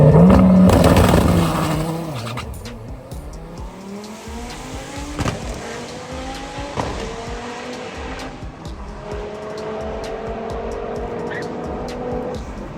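Dodge Viper race car with a stick shift making a test-and-tune drag pass, its engine roaring loudly at the start and then revving through rising gear pulls as it pulls away, with faint voices in the background.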